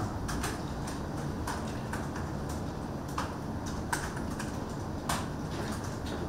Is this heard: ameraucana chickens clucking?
no